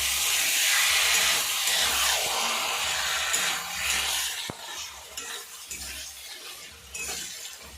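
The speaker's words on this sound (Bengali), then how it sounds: "দেখুন এই মশলার সঙ্গে লোটে মাছটাকে দিয়ে হালকা করে নেড়ে দেবো।" Lote (Bombay duck) fish turned gently through spice masala in a hot pan, a loud hissing sizzle that eases over time, broken by the scrape and occasional knock of the spatula against the pan.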